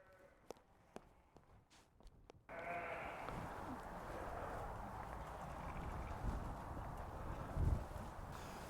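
Sheep let out of their pen bleat under a loud, continuous rush of hooves and movement, preceded by a few sharp clicks and knocks.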